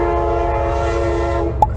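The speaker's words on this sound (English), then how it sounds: "this is the 3rd time today I've been stopped by this train" A train rumbles steadily close by at a rail crossing where a car waits, its horn blaring in sustained tones through most of the stretch before cutting off near the end.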